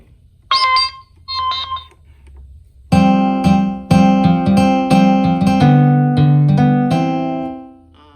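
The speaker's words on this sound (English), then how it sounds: "I have a couple guitar sounds here." Synthesized plucked guitar-like notes from a keyboard running MainStage, a few tentative high notes first, then a run of sustained bright chords ringing out and fading.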